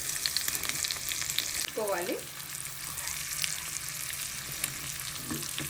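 An egg pouch sizzles steadily in a pan after being flipped, with a continuous close frying crackle and a brief scraping stir partway through.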